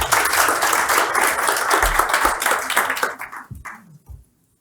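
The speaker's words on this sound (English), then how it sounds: "Round of applause, please." A conference audience at a furniture industry event breaks into a loud, sustained round of applause for an introduced speaker, dense clapping filling the hall before thinning out and stopping abruptly near the end.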